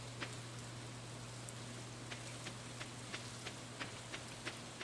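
Steady rain falls in the video game Stardew Valley, a soft continuous patter with scattered sharper drips ticking through it over a low hum.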